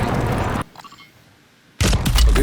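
Loud bursts of gunfire in Warzone 2 open and close the moment, dense rapid shots crowding the start and end, separated by a near-silent gap with a faint distant tone; no speech.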